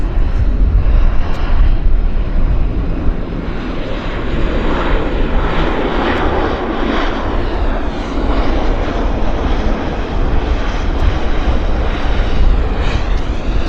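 An airliner taking off from a runway at Vancouver airport, with a loud, sustained roar of jet engines that builds and rumbles steadily throughout, with no talk over it.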